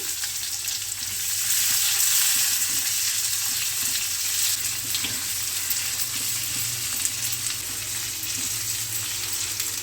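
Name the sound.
sliced onion sizzling as it is added to hot oil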